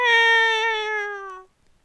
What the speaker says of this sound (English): The cat from earlier was rubbing his head on Yano's hand and being cute.